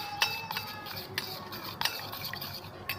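Spoon stirring mango custard powder into milk in a bowl, with close scraping swirls and sharp clinks of metal against the dish at irregular moments.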